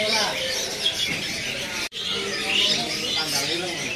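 Caged birds, including a magpie robin, chirp and call around a bird shop kiosk in a continuous busy chorus of tweets, with a brief dropout partway through.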